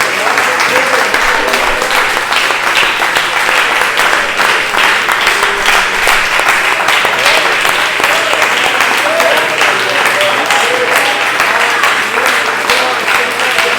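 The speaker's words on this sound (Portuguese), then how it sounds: "Vamos dar mais uma salva de palmas bem forte para o nosso Deus." Church congregation applause at an evening service in Hortolândia, Brazil, loud sustained clapping from a large crowd, steady and unbroken, with voices faintly mixed in underneath.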